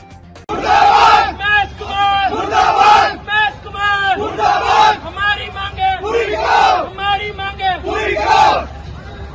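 Crowd of colony residents at a sit-in protest over waterlogging in South Civil Lines chanting slogans in loud, rhythmic unison, a steady repeated call with brief pauses between phrases, close and dominant throughout.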